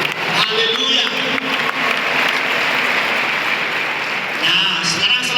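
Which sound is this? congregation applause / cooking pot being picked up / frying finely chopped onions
congregation applause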